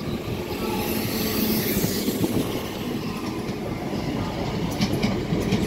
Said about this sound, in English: Northern train service going to Leeds. Local stopping service via Wakefield.